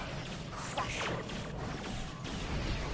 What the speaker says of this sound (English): Look at the explosions.